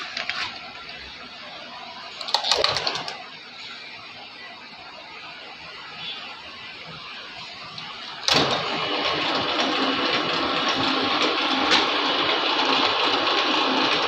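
A machining tool takes a cutting pass on a workpiece: a brief mechanical burst, then quieter hum, until the machine kicks in midway with a sudden, steady, close whirring grind that continues to the end.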